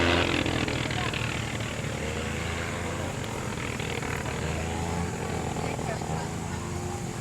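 A World War I fighter plane engine roaring at full power on takeoff at an airfield in Rhinebeck, New York, loud and steady throughout, with a voice talking over it.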